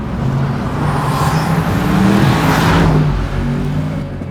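A Bentley Continental GTC V8 S convertible, its twin-turbo V8 making nearly 650 horsepower, accelerates with a steady, loud engine roar and rising pitch, the sustained drone running continuously without voices.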